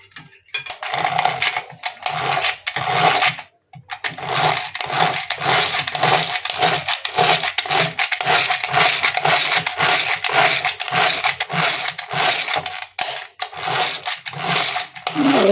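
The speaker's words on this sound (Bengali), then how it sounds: "ভালো করে কিছুক্ষণ ব্লেন্ড করে নিব" Electric blender whirring steadily as it mixes cake batter of sugar and a pinch of salt, a loud continuous motor drone with pulsing, rattling texture running for most of the stretch, broken only by one short pause near the start.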